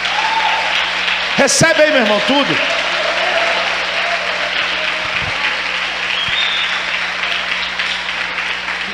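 A church congregation at a Brazilian conference claps in praise, a sustained broadband roar of many hands filling the room while someone speaks loudly over it.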